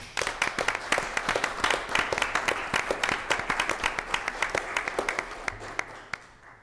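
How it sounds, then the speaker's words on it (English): Attendees at a village council public meeting give a round of applause, a crisp, fairly close patter of many hands with distinct individual claps that trails off to a few last ones. "So I'm going to ask for another round of applause."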